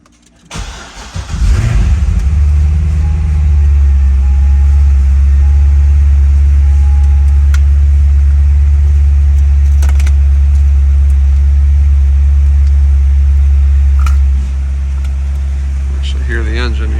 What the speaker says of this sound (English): Hear the engine here.